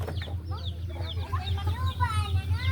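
Chickens near a chicken coop cluck and chatter in overlapping bursts, fairly close, over a steady low hum.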